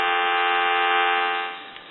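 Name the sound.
telephone dial tone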